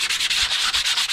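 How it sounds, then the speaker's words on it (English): Rapid back-and-forth sanding of a 3D-printed PLA part with 200 grit sandpaper, a steady loud hissing scrape in quick rhythmic strokes, close up with no talking. "I'll go and grab something like 200 grit sandpaper and just real quick"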